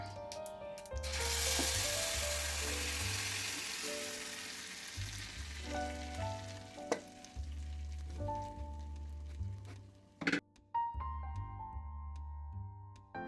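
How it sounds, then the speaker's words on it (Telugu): Split moong dal is tipped into a hot tempering of oil and chili powder for gongura pesarapappu, setting off a loud, close sizzle that swells and slowly fades, with a low steady hum, scraping and a few sharp clinks near the end. "ఇప్పుడు ఆ తాలింపులో పప్పు వేసుకుందాం"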